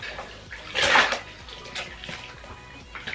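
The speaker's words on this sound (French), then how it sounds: "je fais un bain d'eau froide dans la bassine. Voilà, donc on va la plonger dans l'eau froide." A wig plunged into a basin of cold water gives a brief watery splash and slosh near the one-second mark, close and moderately loud, followed by quieter handling and faint trickling.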